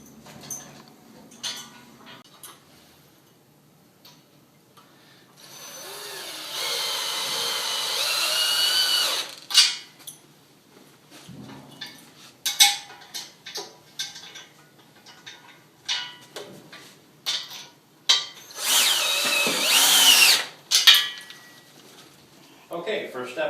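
Two bolts and locking nuts being tightened with a 3/4 socket drive and crescent wrench while assembling a manual jack, giving repeated metallic clicks, ratcheting and clinks in two longer bursts, with talk between them.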